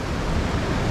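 Alaknanda river water rushing in a continuous, loud broadband roar, steady throughout with no voices.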